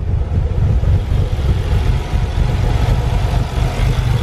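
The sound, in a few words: Nissan 300ZX twin turbo engine idling roughly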